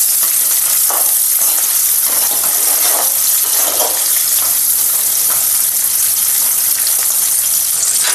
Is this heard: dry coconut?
yes